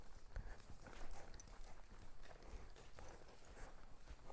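A horse walks forward steadily, its hooves giving a soft, regular clip-clop against constant outdoor wind and ambient noise.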